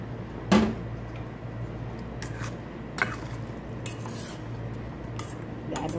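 Spoon clinks and scrapes in a pan while balado eggs are stirred with added water, two sharper metallic knocks standing out over faint background hum, close but quiet.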